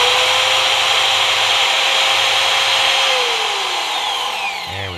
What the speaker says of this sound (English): It's amazing how difficult this aluminum is to cut for the file